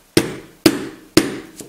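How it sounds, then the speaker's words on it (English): Three sharp, evenly spaced hammer blows ring out up close as a wrist pin is driven out of a piston, each strike a hard metallic knock, followed by a faint fourth tap. "Hold it steady and try hammering it."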